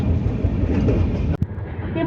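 A train rumbles along at speed, heard from inside the carriage as a loud, continuous low roar with a brief dropout and sharp click near the middle, and faint voices underneath.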